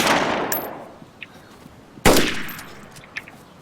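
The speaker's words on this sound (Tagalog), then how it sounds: "Oh, sinong bumabaril? Sinong bumabaril?" Two sharp gunshots in a video game, one at the start and another about two seconds later, each ringing out with a long fading echo, followed by a few faint distant clicks.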